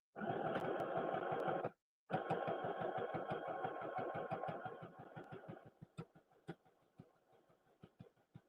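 A sewing machine stitches a travel pillow, its needle chattering in a fast, even rhythm close by. It stops briefly, starts again, then slows to scattered single stitches and clicks.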